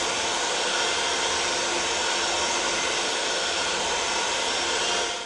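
An electric mixer beats thick fudge in a pan, a loud, steady whirring drone that holds unbroken throughout with no voices.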